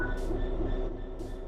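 A train in Train Sim World 3 setting off, a low steady engine rumble with humming tones and brief hissing bursts of air at the start and end, close and continuous, no voices.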